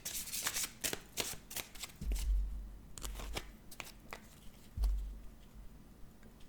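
Tarot cards being shuffled by hand, a quick run of crisp papery riffles and flicks with a few soft thumps on the table, close and clear with no talking.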